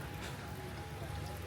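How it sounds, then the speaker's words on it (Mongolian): Light rain falls outside a resort in Ubud, Bali, a soft, steady hiss of drops that continues evenly and faintly throughout. "Одоогоор бол гадаа жоохон бороотой байна."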